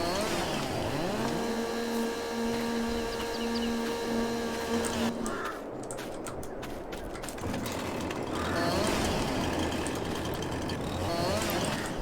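A small Landini tractor engine in Farming Simulator 22 hums steadily with a tonal drone, then shifts to rougher mechanical rattling and clunks midway before the engine tone returns, loud and continuous throughout.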